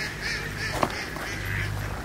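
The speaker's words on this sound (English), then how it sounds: "we found some ducks" Several ducks quack and honk nearby, short nasal calls repeating over a steady wash of rain and background noise.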